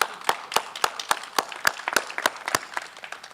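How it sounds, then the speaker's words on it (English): Sparse, uneven clapping from a modest audience at a city news conference, individual claps distinct and irregular rather than a full roar. "So please, round of applause."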